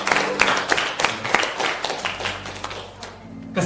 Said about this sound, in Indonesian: tepuk tangan untuk ibu bapak ibu semua